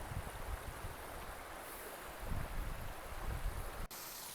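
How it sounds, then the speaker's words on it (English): A small stream and waterfall in the woods near Whitecourt, Alberta, give a soft, steady rush of running water, heard alone with a brief dip and a click near the end. "you can hear nothing but the stream"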